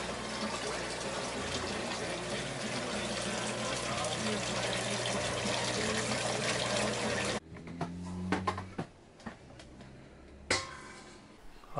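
Homebrewed beer runs from a fermenter into a sample vessel for a gravity reading on an unheated back porch. A steady, close liquid pour lasts several seconds, then stops, followed by a few clinks and handling noises.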